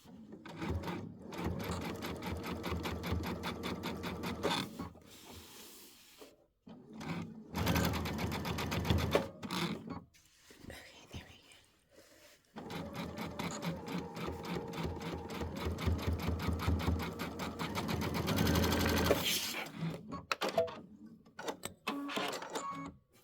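Embroidery machine stitching in the ditch to finish a Christmas flight quilted project, running in steady rapid bursts with short pauses between runs, close and loud with no talk.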